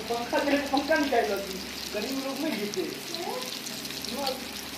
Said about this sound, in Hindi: मछली फ्राई करने का सबसे अच्छा तरीका और आसान तरीका